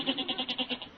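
A goat bleats in a single wavering, pulsed call used as a sound effect in a 1945 radio comedy, heard alone and fairly clear.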